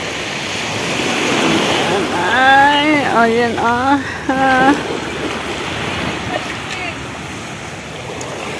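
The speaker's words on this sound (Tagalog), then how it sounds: "Ganda ng dagat." Waves wash steadily onto a beach, a continuous broadband surf wash running through the whole stretch, with several people talking and exclaiming over it in the middle section.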